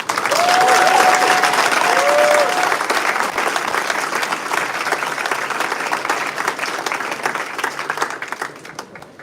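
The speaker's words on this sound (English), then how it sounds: "we would love to get a round of applause for the University of Loyola" Loud applause from an audience at a moot court competition, dense clapping that holds steady and then slowly thins out over several seconds, with a brief whistle early on.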